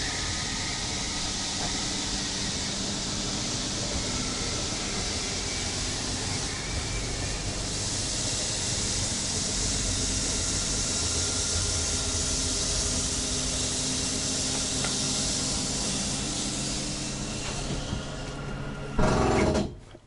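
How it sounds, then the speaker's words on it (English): RV slide-out motor on a 2020 Rockwood 2604 WS travel trailer runs steadily as a loud whirring drone for most of the span, ending in a short burst as the overload clutch engages and ratchets before stopping. "That's an overload clutch that protects the motor and lets you know it's time to stop pushing"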